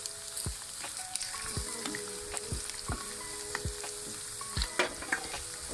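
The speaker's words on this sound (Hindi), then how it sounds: "तो हमने इसे ऐसे खुला फ्राई करना है।" Green chilli chicken fries uncovered in a pan, giving a steady, close sizzle with frequent sharp pops and crackles, alone without talk.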